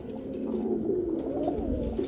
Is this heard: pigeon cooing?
yes